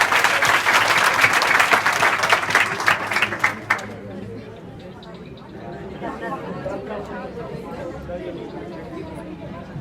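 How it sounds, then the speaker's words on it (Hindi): Children at a secondary school give a burst of loud, dense applause that dies away after a few seconds, leaving quieter murmuring and chatter from the room. "आपने सीखा, इसके लिए बहुत बेहतरीन, ताली बजाओ जोरदार।"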